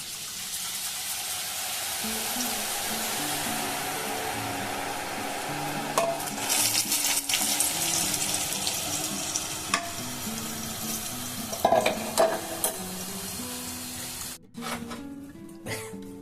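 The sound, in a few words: frying red boondi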